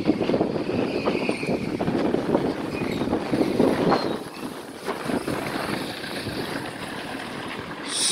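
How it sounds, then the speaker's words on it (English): Gusty wind buffets a microphone while moving along a road in Brikama, The Gambia, a loud, continuous rumbling roar that dips briefly midway and then swells again. "So much wind these days."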